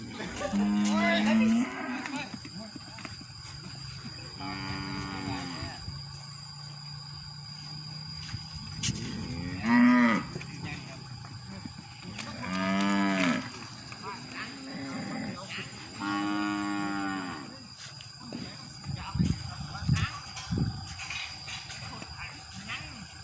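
Beefmaster cattle imported from the USA moo repeatedly as they are led into a pen, with several long, loud, close lowing calls spread across the scene while people talk nearby.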